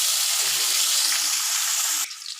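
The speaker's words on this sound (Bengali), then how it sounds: "তেল গরম করে এই পনিরটা একটু লবণ মাখিয়ে ভেজে নেব," Salted whole paneer frying in hot oil gives a loud, steady sizzle that runs close and alone, then drops off sharply near the end.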